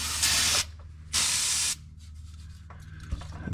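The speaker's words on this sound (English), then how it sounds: "I did bring some brake clean though." Two long hissing bursts of brake cleaner aerosol sprayed under a 1951 Ford rat rod, each about half a second, followed by quieter rustling and handling noises in a garage.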